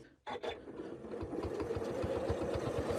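A sewing machine stitches free motion feather filler quilting, starting after a brief pause and settling into a steady, close, rapid mechanical chatter with no voices.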